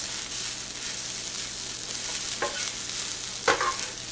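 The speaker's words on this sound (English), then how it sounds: "your arm got really sore after mixing, but you have to keep mixing it" Fried rice for omurice is mixed in a hot pan under a steady, dense sizzle, with a couple of louder scrapes from the spatula near the end, close and without voices.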